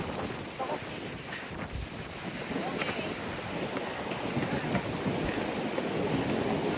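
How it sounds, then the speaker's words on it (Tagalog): Strong coastal wind buffets the microphone at Yehliu Park on Taiwan's north coast, a loud, steady rumbling roar that swells slightly and persists throughout, with faint surf beneath. "Sobrang hangin niya. Hindi ko alam kung narinig niyo pa ako sa mic ko."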